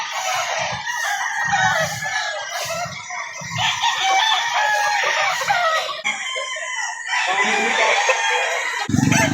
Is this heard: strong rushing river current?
no